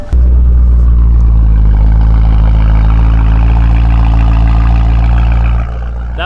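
A BMW M3 engine fires at a cold start and settles into a loud, deep, steady idle rumble close by, dropping slightly in level near the end, with no talking.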